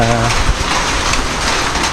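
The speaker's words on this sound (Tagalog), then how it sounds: "Maraming may gusto ng ulan na yan." Steady rain falls on a farm with sweet corn, a dense continuous patter filling the whole clip at close range, with a faint low hum briefly underneath.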